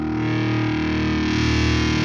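Electric guitar chord strummed with the volume knob rolled up, played in a song lesson: a thick, heavily distorted chord rings steadily at full loudness for about two seconds, alone.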